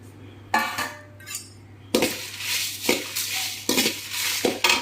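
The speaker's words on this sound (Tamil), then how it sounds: "இப்போ இந்த ஐட்டம்ஸ்லாம் ராவா வறுத்துக்கலாம்." Spices dry roasted in a kadai on a stove are stirred with a metal spoon, giving bursts of dry rattling and scraping over a low steady hum, close and fairly loud, with no talking.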